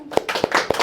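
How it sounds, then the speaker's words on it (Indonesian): A few sharp, scattered hand claps from a comedy show audience, roughly three distinct claps in under a second, close and fairly loud with no speech over them. "tepuk tangan yang ikutin coba"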